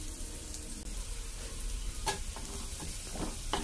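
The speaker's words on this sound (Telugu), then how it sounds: "జీడిపప్పు కూడా ఫ్రై చేయాలి, ఇలా జీడిపప్పును కూడా ఫ్రై అవనిద్దాం." Cashew nuts frying in a pan give a steady close sizzle, with a few sharp crackling bursts and stirring scrapes toward the end.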